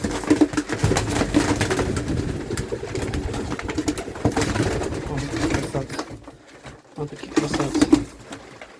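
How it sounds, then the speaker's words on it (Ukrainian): Pigeons cooing steadily in a new dovecote, close and fairly loud, with rustling and someone talking over the birds. "Дуже гарні голуби."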